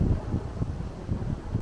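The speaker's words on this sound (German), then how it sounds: "Hier sind sehr laut, die Windräder." Low, rumbling wind noise buffeting the microphone near wind turbines on a very windy day, a continuous roaring whoosh with gusty swells and no voices.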